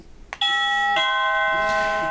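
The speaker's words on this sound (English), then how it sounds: "So one quick doorbell," After a short click, a SadoTech portable alert system sounds its electronic doorbell chime nearby, two clear ringing tones that sustain and slowly fade.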